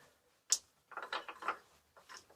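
Shafts turning inside a T16 tractor gearbox during assembly: a sharp metallic clack followed by a run of quieter clicking and grinding as the gears are rotated, close by, with no other sound.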